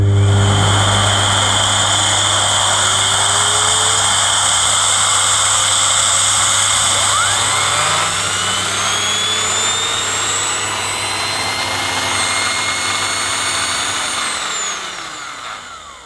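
A Hoover Sensory 2300 W vacuum cleaner runs steadily with a loud, constant motor whine. The pitch shifts partway through, and the sound winds down near the end with no voices.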